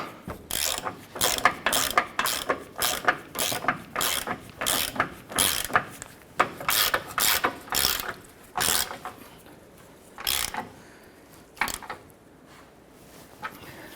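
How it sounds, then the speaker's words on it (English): Ratchet wrench tightening the forward control arm bolt on a 2008-2012 Honda Accord, a rapid run of close, crisp clicking bursts in an uneven rhythm, alone without talk. "Let's go ahead and tighten down our forward-mounted bolt."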